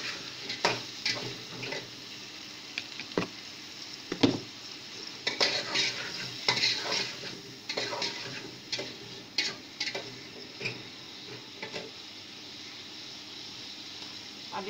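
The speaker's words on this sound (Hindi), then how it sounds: "आलू को ज़रा फ्राई कर लेंगे।" Potatoes frying in a pan: a soft sizzle runs under irregular metallic clinks and scrapes of a utensil stirring against the pan, fairly quiet and close, with no talking.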